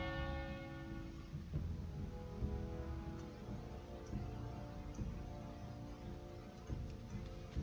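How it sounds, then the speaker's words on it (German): The town hall bell in Fernheim rings in World of Warcraft, a resonant clang with long ringing overtones that slowly fade, heard at moderate distance. "Geht zum Rathaus in Fernheim und lasst die Glocke läuten."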